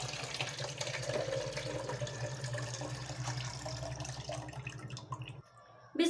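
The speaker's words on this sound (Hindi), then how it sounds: "हम 1 मग पानी डालेंगे" Water from a mug pours into a juicer jug while juice is prepared, a steady splashing, gurgling flow lasting several seconds, close and fairly loud, before it stops abruptly.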